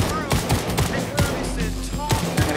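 Rapid bursts of Fortnite gunfire crackle in quick succession, sharp and close, with short gaps between volleys.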